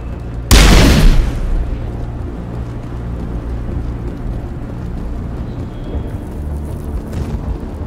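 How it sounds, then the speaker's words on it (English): Gunfire and explosions in Mass Effect: one loud, close blast bursts out early, then a long low rumbling tail under steady background noise. "How is a woman supposed to think with guns going off all around?"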